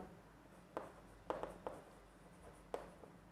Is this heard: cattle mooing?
no